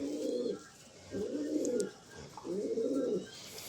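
A pigeon coos nearby in three slow, rounded phrases, evenly spaced and fairly quiet, with faint background noise between them.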